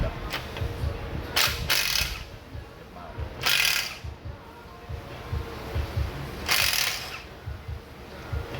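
A Milwaukee stubby ratchet clicks in several short bursts during rear differential service on a Ford Transit, close, quick ratcheting separated by brief pauses and low knocking handling sounds.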